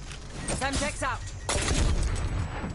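A Semtex grenade exploding in Call of Duty Cold War Zombies, a sharp heavy blast landing midway amid rapid gunfire, with a voice speaking over the opening moments.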